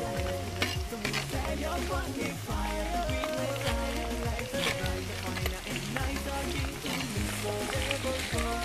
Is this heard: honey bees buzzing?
no